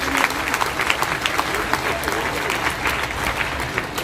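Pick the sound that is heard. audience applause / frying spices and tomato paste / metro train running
audience applause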